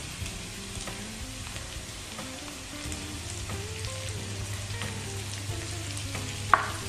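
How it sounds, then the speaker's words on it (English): Sliced onions frying in a pan for a spicy chicken garlic roast, giving a steady, soft sizzle with light stirring clatter and one sharp tap near the end, close and fairly quiet. "now we have to fry these onions till they are nice light golden brown in color"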